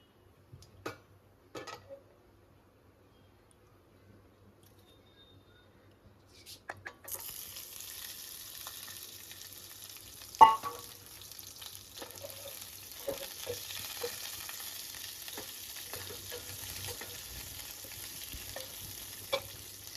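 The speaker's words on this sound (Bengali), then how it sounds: "পটলটা একটু ভাজা হবে" Pointed gourd frying in a pan with whole spices, heard mostly as a faint, soft sizzle that comes up partway through after quiet ticks and small knocks, with a few louder clinks of the pan.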